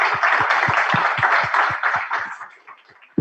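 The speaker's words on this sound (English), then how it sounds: "Let's give them a round of applause." An audience in a conference room at the Digital Trust 2025 event applauds the panelists. The clapping is brisk and rhythmic, then thins out and fades over about three seconds, with no one talking over it.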